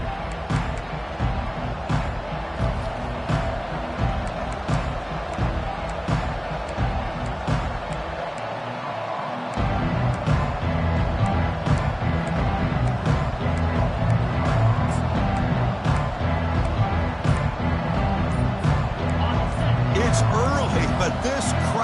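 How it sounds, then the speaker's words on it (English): A large college football stadium crowd roars steadily throughout during a kickoff, swelling louder partway through into a sustained wall of cheering and noise, with no clear speech. "this crowd is fired up. Listen to this noise here."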